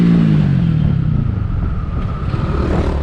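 A Skygo Earl 150 motorcycle with an upgraded CG 150 engine and 28mm carburetor idles with a steady close-up rumble, the putter easing and sagging as it runs out of fuel.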